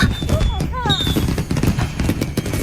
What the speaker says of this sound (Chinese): 竟然是烟花！